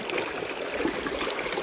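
River water rushes steadily past a gold-panning sluice box in New Hampshire, a close, continuous burbling flow with no talk over it.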